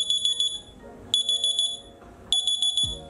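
A smartphone alarm set off by a Zeblaze THOR S smartwatch's find-phone feature, sounding three bursts of rapid high-pitched electronic beeps, loud and close, with a short gap between each burst.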